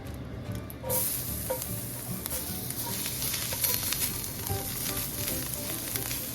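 Garlic hits hot oil in a pan and sizzles loudly, a steady crackling frying hiss that carries on without pause, close by and with no voices.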